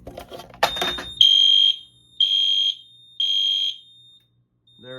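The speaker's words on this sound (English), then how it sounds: "Then you just pull the fire alarm." An EST IO64 fire alarm system, set off from a manual pull station, sounds three loud, steady electronic tones in a regular on-off pattern, each about half a second long. A short mechanical clunk from the pull station comes just before the first tone.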